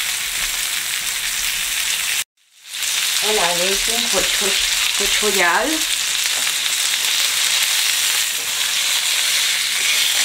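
Stuffed food sizzles and fries on a grill in a steady, loud hiss, with a brief break and a voice talking over the sizzle midway.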